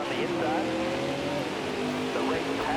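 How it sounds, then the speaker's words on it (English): Race cars in NASCAR Heat 5 at Martinsville on a restart, engines droning steadily with overlapping pitch sweeps, continuous and fairly loud throughout. "We begin this restart in 4th place on the outside of Joey Logano"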